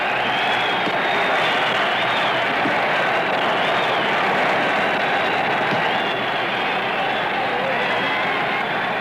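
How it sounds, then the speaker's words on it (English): Large boxing crowd at the Dempsey–Carpentier fight roaring and cheering, a continuous dense wall of noise holding at a loud, even level, heard like an old archival recording. "The crowd goes wild"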